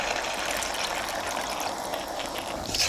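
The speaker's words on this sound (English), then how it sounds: "what I'm going to do is to add half a cup of water in it" Half a cup of water pours steadily into a pan of ground pork for a pork and vegetable stew, making a continuous close trickling splash that lasts about three seconds with no talking.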